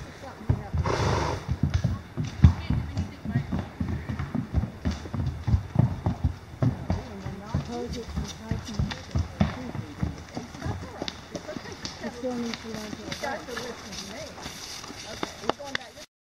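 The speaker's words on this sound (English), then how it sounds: "Showing you Poe riding around out here with no bridle," Poe the horse clip-clops steadily while ridden bridleless on a trail at McIntosh, hooves thudding in a quick repeated rhythm close by, with a brief whinny early on and people talking over the hoofbeats.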